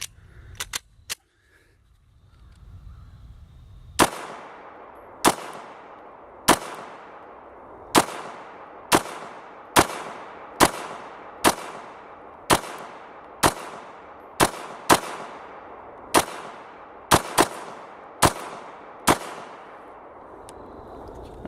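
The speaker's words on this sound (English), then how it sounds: "do some shots at a realistic self-defense distance, not real far out." An FNH FNS 9 handgun fires about seventeen sharp, loud shots at close self-defense range outdoors, spaced roughly a second apart with some quicker pairs, each cracking with a brief echo.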